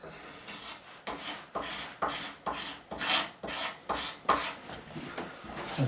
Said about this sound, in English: I've still got to sand this.